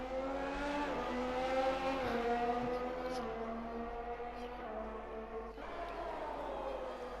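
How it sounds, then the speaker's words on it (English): An Alfa Romeo race car engine screams in a racing video game, a sustained high revving whine with gear shifts and rising pitch, heard close and loud with a voice talking faintly beneath it. "We're riding with Anya, driving the Alfa Romeo car."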